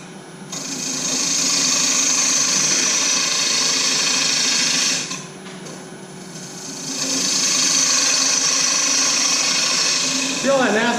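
A wood lathe turning a disk vase while a carbide tool cuts chips, giving a steady high whirring scrape that runs close and loud, pauses briefly in the middle, then resumes; no one speaks.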